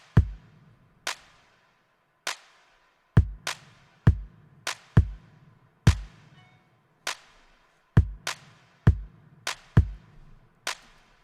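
A sparse programmed drum beat of deep kick drums and sharp claps, with no cymbals, repeats in a steady syncopated groove, clear and alone.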